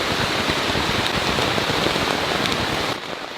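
Steady heavy rain pours down in the Borneo rainforest, a dense continuous hiss of drops on leaves and surfaces that holds close and loud throughout, easing slightly near the end.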